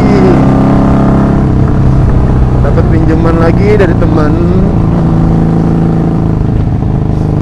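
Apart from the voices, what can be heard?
Honda Magna 750cc V-twin 1984 motorcycle engine on test ride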